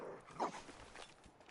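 Dogmeat, the dog companion in Fallout 4, gives a short close bark or yelp, followed by faint whimpering against quiet game background.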